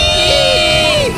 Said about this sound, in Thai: นั่นคือเสียงกรี๊ดของคนที่เสียวจนไตสั่นแล้วนะครับ